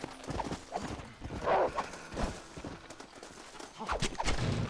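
Hooves clip-clop from a horse in the Red Dead Redemption video game on Xbox One, with a brief whinny rising in the middle, all fairly quiet and uneven.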